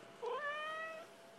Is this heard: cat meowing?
yes